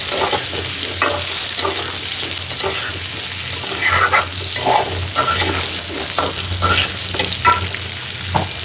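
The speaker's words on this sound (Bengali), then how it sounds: "এখন সাথে আলুটাও দিয়ে দেবো, আলুগুলো ভাজা ভাজা হয়ে যায়" Potatoes fry together with catla fish in hot oil in a pan. A busy sizzle runs throughout, broken by repeated scraping and clattering strokes as the pieces are stirred.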